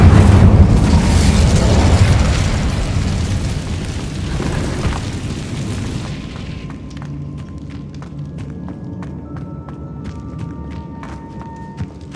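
A fire spell cast in a video game lets out a loud, roaring burst of flame for several seconds. It then drops away into a quieter scene with scattered light taps and thuds.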